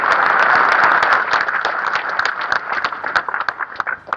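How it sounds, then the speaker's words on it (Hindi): A crowd claps at a political rally in Bhopal, with dense, loud applause that gradually thins out into scattered individual claps toward the end. "ताली तो बजा दो"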